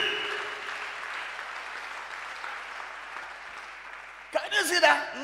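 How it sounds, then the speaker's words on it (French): A church congregation claps hands steadily during a bilingual English-French sermon, the applause continuing for several seconds before a voice cuts in loudly at the end. "Clap your hands for Jesus."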